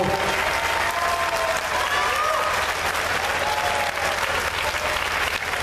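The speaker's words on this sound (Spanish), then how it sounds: "Regálenos un aplauso bien grande, por favor." Loud, sustained applause from a circus audience of families and children in Iztapalapa, dense steady clapping that fills the space evenly from start to finish, with crowd voices mixed in.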